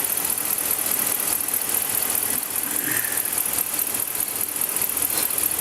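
A 2014 Ram truck engine runs steadily with a low idling rumble and faint rattle, close and continuous.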